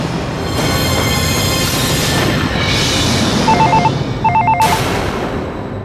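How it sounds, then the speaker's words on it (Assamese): A mobile phone rings with a sharp electronic ringtone, a few short repeated tone bursts near the end rising over a loud, noisy background with no talking. "হেল্ল' ডেভিড, তুমি এইটো কাৰ মোবাইলৰ পৰা ফোন কৰিছা?"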